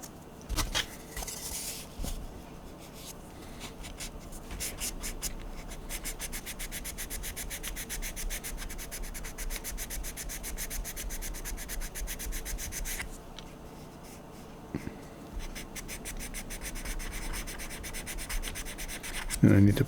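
Sandpaper of 1000 grit rubs steadily along the plastic edges of a Star Trek bridge model, a continuous close scratchy sanding that runs almost unbroken with a brief pause near the end.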